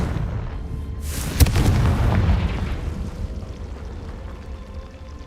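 A Confringo fire-blast spell bursts in Hogwarts Legacy as a single loud, booming explosion that hits sharply and then rolls on in a long rumbling decay over steady background noise, with no talk.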